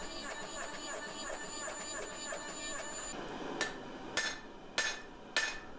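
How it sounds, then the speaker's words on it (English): Heavy hammer blows on a multi-layer damascus steel billet to test the forge weld, four sharp ringing strikes spaced about half a second apart after a stretch of steady humming workshop noise. "I'm really hammering on that front now just to see if that is a good weld or not"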